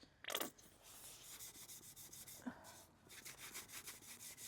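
An abrasive sponge rubs over the body of a GSXR motorcycle in short, quiet back-and-forth strokes, a faint scratchy scrubbing with brief pauses between bursts and no talking.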